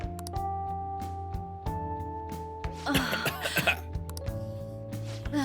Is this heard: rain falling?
no